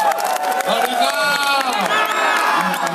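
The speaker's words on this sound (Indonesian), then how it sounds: "Pak Jarod Saiful Hidayat, tepuk tangan yang meriah" A crowd at a political party celebration event cheering and whooping, with loud overlapping voices and shouts that dominate, while clapping underneath is hard to pick out.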